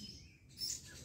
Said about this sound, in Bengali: পাখির কিচিরমিচির কত সুন্দর ডাক